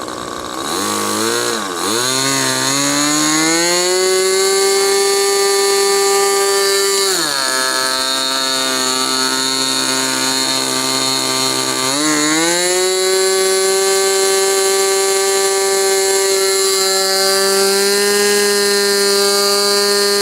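A small, high-pitched model airplane engine on a NexStar trainer whines steadily, its pitch rising to full throttle, dropping back, then climbing to full again. It is loud and continuous.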